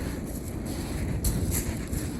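Steady wind buffeting the microphone outdoors at a Norfolk angling club fishing match, a continuous low rumble with brief gusty swells and no speech.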